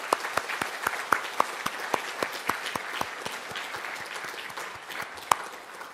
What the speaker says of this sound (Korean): 크게 박수 한번 하겠습니다